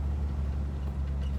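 A Jeep Wrangler TJ with a modified exhaust drives down the road, producing a steady, deep, low droning engine rumble that stays even and close throughout.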